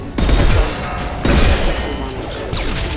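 Gunfire in Mass Effect 2: loud, close shots in a rapid burst at the start, with further heavy bursts around the middle and near the end over a rumbling combat bed.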